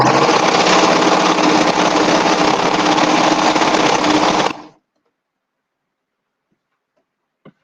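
A serger sewing machine stitches a drawstring bag, a loud close continuous whirring buzz that runs for several seconds, then stops abruptly into silence broken by one faint click.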